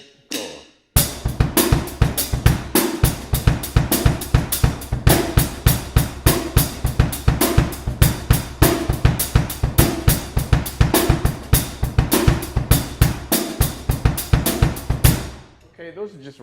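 A drum kit plays a steady groove built on Ska Du skidoo sticking, with dense, even strokes on drums and cymbals and periodic accents, loud and close for about fifteen seconds before stopping.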